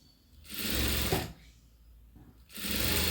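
An electric sewing machine stitches a dots-and-cross strip in two loud bursts of rapid whirring, separated by a quieter pause, with no talking.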